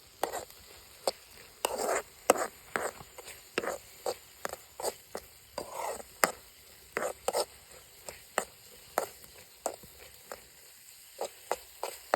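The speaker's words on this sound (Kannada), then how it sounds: "ನಮ್ಮ ಹತ್ರ ಇಲ್ಲಿ ಚಟ್ನಿ ರುಬ್ಬೋದಕ್ಕೆ ಸಣ್ಣದೊಂದು ಕಲ್ಲು ತಂದಿಟ್ಕೊಂಡಿದ್ದೀವಿ. ಈಗ ಇದಕ್ಕೆ ಹಾಕಿ ಅರಿಯೋಣ" A small grinding stone works chutney outdoors, giving a run of sharp, rhythmic knocks and scrapes at an uneven pace, close and fairly quiet, with no talking.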